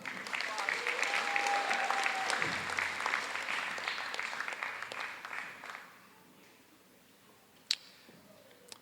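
Sustained applause from a crowd at a high school commencement ceremony, loud and steady for about six seconds before fading into quieter room noise and a single sharp knock.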